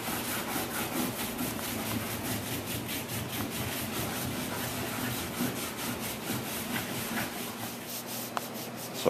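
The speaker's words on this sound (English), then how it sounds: "We scrub and scrub and scrub until the surface is almost looks like it's been burnished, and it'll have a slight sheen to it." The wooden foredeck of a 1946 Gar Wood Ensign boat being scrubbed, a continuous close rasping rub with a rapid even back-and-forth rhythm and no talk.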